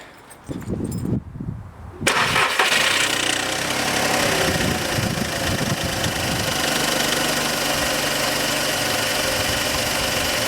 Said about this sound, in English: now I'm going to start the engine so it can start circulating